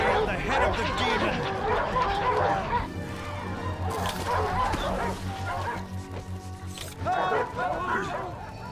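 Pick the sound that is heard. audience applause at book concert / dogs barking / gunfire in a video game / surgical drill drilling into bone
dogs barking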